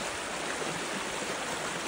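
Water rushes in a beck swollen after a storm, a steady, broad, close-up roar of flowing water with no voices.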